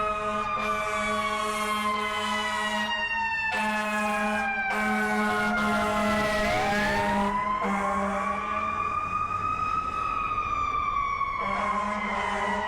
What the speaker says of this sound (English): here we go with the sirens